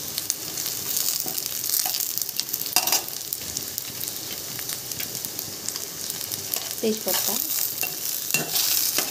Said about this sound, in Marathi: एक इलायची आणि 2-3 काजू छान परतून घेऊया